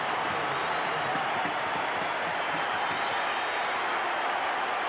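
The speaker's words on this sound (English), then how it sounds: "Sirinen gets a huge round of applause from the Tiger fans" Balmain Tigers rugby league fans at a 1988 Winfield Cup semi-final against Manly Warringah give a substituted player a huge round of applause, a sustained, even roar of clapping from a large stadium crowd.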